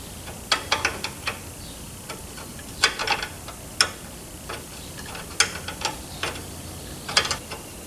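Ratchet clicking in short bursts while tightening a brake caliper fitting on a 1970 Pontiac LeMans front disc brake conversion, quick irregular metallic ticks close up over a quiet background.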